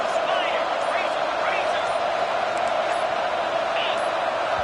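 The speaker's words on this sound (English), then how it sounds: "with this place rocking, the crowd forces a false start" A stadium crowd at a college football game between Georgia Tech and Florida State roars in a steady, dense wash of noise, with a commentator's voice faintly running beneath it.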